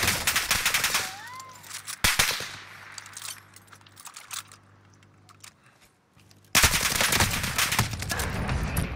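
Gunfire in a shooter video game: bursts of rapid automatic fire at the start and again near the end, with single loud shots and quieter stretches between, fairly close.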